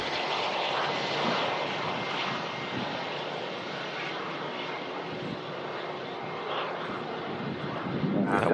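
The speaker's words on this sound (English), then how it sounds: "a big shout out to Captain Andrew for waving in the Logan Air." Loganair propeller plane at Manchester Airport, a broad steady engine roar mixed with wind buffeting the microphone, swelling slightly toward the end, with people talking over it.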